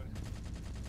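Rapid gunfire in the video game Halo 4, a dense burst of repeated shots in quick rhythmic succession throughout, loud and close.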